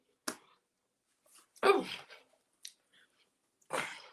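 Crunchy bites into warm, crispy barbecue pork spring rolls, three or four sharp close crunching bursts separated by quiet pauses, with soft chewing in between.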